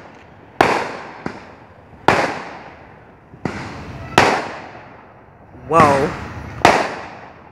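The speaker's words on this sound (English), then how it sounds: "Mad crazy fireworks, guys." Fireworks and firecrackers burst outdoors in a series of seven loud, sharp explosions spaced about a second apart, each trailing off into a rumbling echo, while a voice exclaims between blasts.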